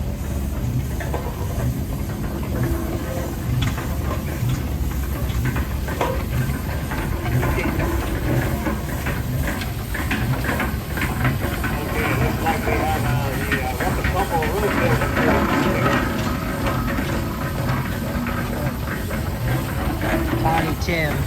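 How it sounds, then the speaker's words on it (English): Small steamroller-type steam traction engine with a two-cylinder side-mounted engine and upright boiler running at an antique machinery show, a steady loud chuffing and hissing drone throughout with faint voices in the background. "so we would ask for the steam traction engine"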